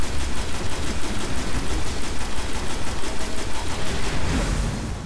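Rapid automatic gunfire blasting a gate in the video game Destiny, a fast even stream of shots at a steady loud level that tails off at the end.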